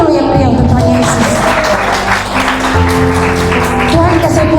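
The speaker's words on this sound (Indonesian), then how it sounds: "Beri tepuk tangan dulu yang meriah untuk Tuhan Yesus" A congregation at a church gathering claps for Jesus in loud, sustained applause that runs the whole time, mixed with tonal music or voices.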